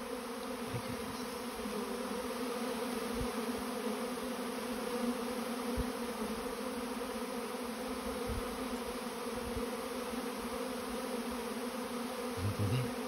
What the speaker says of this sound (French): Je sais pas combien de milliers d'abeilles il y a là.